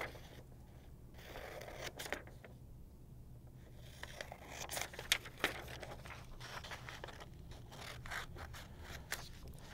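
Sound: cutting out a paper coronagraph template

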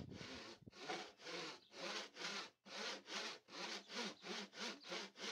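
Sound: hand saw cutting wooden tenons

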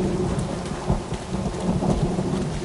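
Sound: rain and thunder in the video game Uncharted

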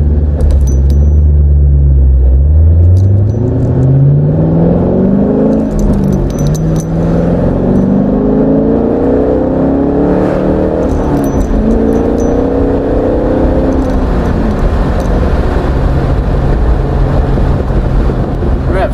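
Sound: car driving

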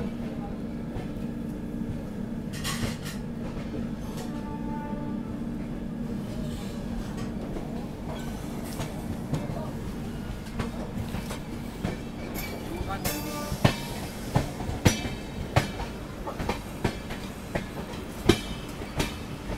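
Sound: train passing on railway line

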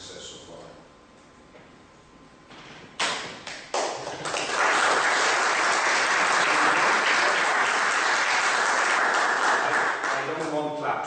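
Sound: audience applause after presentation

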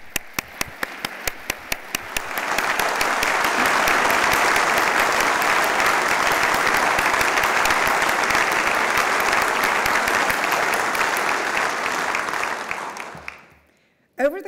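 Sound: audience applause for university president

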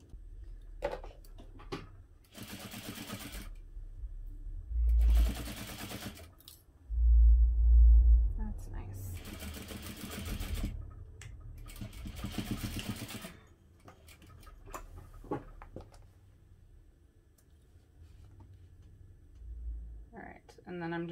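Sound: sewing machine edge stitching stocking

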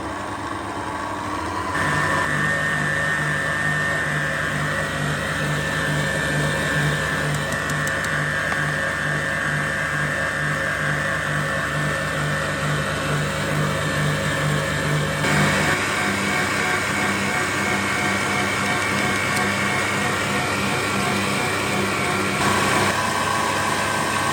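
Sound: electric mixer whipping meringue with sugar

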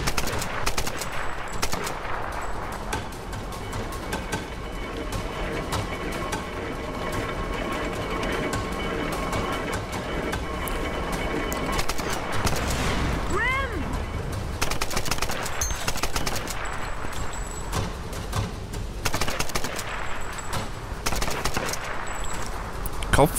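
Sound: gunfire from Tomb Raider (2013) video game

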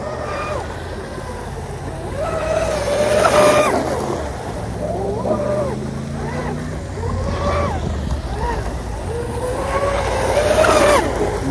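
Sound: RC boat Proboat UL-19 with Castle Hydra motor running

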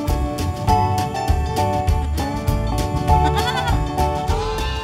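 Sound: lambs bleating at an animal sanctuary

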